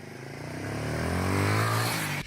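A motorcycle ridden in first gear by a rider with a plaster cast gives a loud, close engine roar that climbs steadily in pitch as it accelerates, then cuts off sharply at the end.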